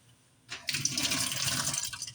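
Water from a cappuccino machine's drip tray is poured out, a sudden rushing splash that starts after a short quiet moment and pours steadily nearby, with no talking.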